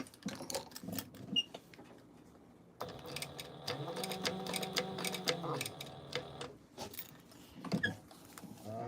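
A sewing machine top stitches a fabric pouch, running steadily for a few seconds in the middle, with quieter clicks and fabric handling before and after.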